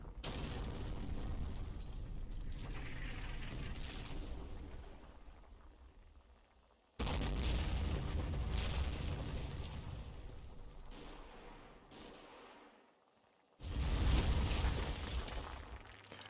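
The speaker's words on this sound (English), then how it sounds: "My own pre-planned mortars start to fall" Mortar barrage explosions in the wargame Combat Mission, set at Monte Cassino: deep, rumbling blasts that swell and slowly decay, with a fresh loud impact striking roughly every seven seconds.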